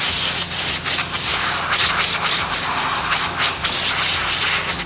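Loud, steady blast of compressed air blowing dust off the gas control valve of a Space-Ray LoPro brooder heater, a continuous broadband hiss with small pulses as the nozzle moves, no talking.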